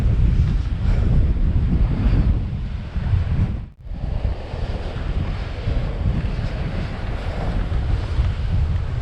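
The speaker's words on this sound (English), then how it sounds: "We've got the waves battering us with spray." Strong coastal wind roars across the microphone along the Wales Coast Path between Whitesands Bay and Porthclais, with breaking surf and spray beneath, loud and continuous apart from one brief lull.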